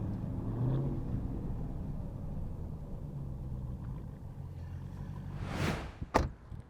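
A Dodge Hellcat Redeye with a 797-horsepower engine drones in a low, steady rumble heard from inside the car, ending with a brief swelling whoosh and a sharp knock near the end.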